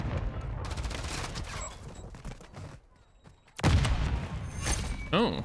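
Shotgun blasts and rapid gunfire in the shooter Modern Warfare 3 crackle in close, loud bursts, broken by a brief quiet stretch before another heavy volley.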